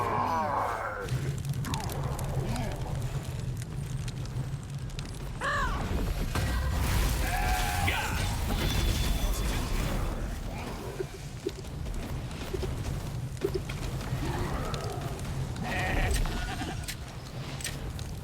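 Sheep bleating inside an online dungeon video game, several repeated bleats in turn against a busy backdrop of game sounds and effects, with cawing calls mixed in, heard over its full length.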